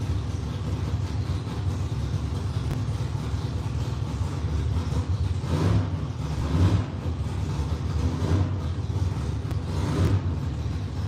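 A car engine idling roughly with timing slightly off, its exhaust chugging and gargling unevenly; a steady close low rumble runs throughout, with a few louder surges near the middle and end.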